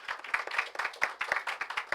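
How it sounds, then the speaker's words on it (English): A small audience at a high school poetry reading gives a short round of clapping, fairly close and uneven, with a few distinct hand claps standing out. "Let's just give a round of applause"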